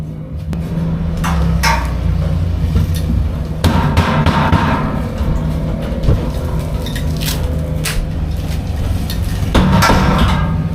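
Sharp knocks ring out at irregular intervals over a steady low rumble of background noise, like a hammer striking nearby.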